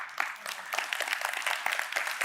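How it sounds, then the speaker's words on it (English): A speech audience gives a short burst of scattered hand clapping, fairly close and moderately loud, lasting only a couple of seconds. "Oh, almost got some clapping."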